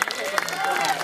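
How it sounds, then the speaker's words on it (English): Crowd applause at a county fair show, a steady wash of clapping from the audience mixed with babble and raised voices throughout. "he needs another round of applause"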